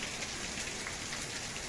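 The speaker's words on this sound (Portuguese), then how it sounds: "É mais uma chuva nessa quinta-feira em Limoeiro do Norte." Heavy rain falling during a storm in Limoeiro do Norte, a dense continuous hiss of drops pattering on surfaces, steady and fairly close, with no voices.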